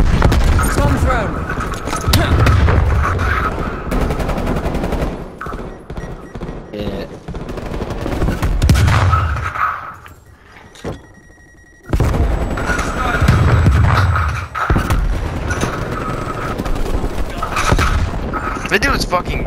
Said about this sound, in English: Throw a grenade over there now. Throwing frag. Shut you up, man. Frag out. Bomb thrown.